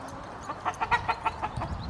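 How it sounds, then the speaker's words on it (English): Several chickens cluck softly close by, a quick run of short clucks in an uneven rhythm over quiet outdoor background. "Here are some chickens."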